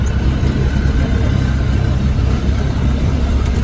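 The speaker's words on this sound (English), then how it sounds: "they're test driving it right now" A vehicle being test driven by prospective buyers gives off a steady, loud low engine rumble that holds at an even level from start to finish, with no talk over it.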